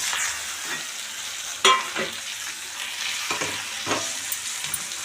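Ivy gourd is tossed with onion chili masala in a pan, a soft hiss of frying broken by a handful of spatula scrapes, one loud knock near the middle, heard up close.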